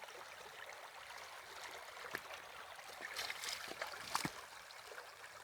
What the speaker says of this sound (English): So guys, here is the river.